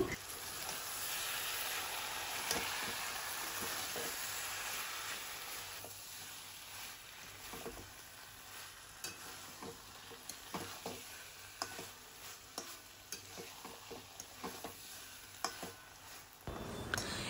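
Cooked Malabar spinach greens being stirred in a pan, with a soft scraping and faint sizzling bed broken by light irregular clicks and taps, quiet and close, ending with a brief louder rustle.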